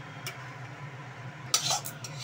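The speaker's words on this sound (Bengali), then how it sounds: "মাখনটা এর সাথে দিলে খুব ভালো টেস্ট হয়। একটু নাড়াচাড়া করে তারপর ওই ডিমের ভুজিয়াটা এর মধ্যে দিয়ে দেবো।" A utensil scrapes and taps against a pan as butter is stirred before eggs go in, a faint low hum beneath with a couple of brief clinking strokes near the end.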